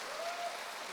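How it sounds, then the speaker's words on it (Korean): An audience at a convention claps together in steady, even applause that stays faint and distant across a brief second. "박수 한번 쳐주시죠"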